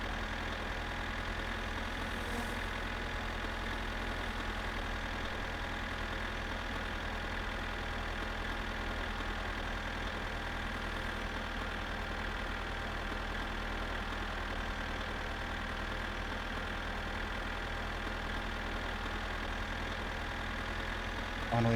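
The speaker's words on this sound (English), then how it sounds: "I can get rid of the noise of the tractor." A tractor engine idles steadily in the My Summer Car driving game, a constant low droning hum with a mechanical rumble that holds at an even level throughout with no talk.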